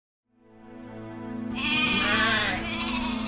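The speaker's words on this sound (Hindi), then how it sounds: "एक दिन एक चरवाहा चारे की तलाश में अपनी भेड़ों के साथ जंगल की ओर जा रहा था।" Sheep bleat in an animated Panchatantra children's story about a shepherd, a long quavering bleat swelling in and holding loud for a few seconds.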